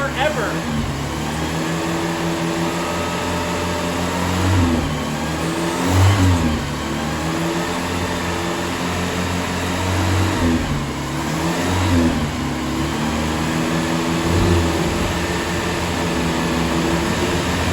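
A 1977 Land Rover Lightweight engine idles after startup and revs up and down several times, rising and falling in pitch, with a voice speaking over it now and then.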